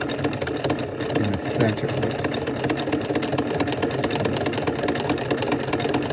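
A sewing machine stitches rope into the center of a rope cup and saucer, a steady mechanical hum and rapid needle chatter running throughout at close range, with a brief spoken remark over it.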